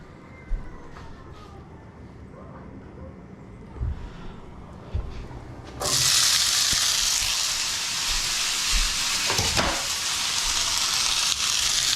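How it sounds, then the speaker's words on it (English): Quiet kitchen clatter, then a loud, steady sizzle of wet chickpeas hitting a hot pan, crackling continuously until the end. "That sizzle sound is mostly the moisture in the chickpeas reacting with the hot pan."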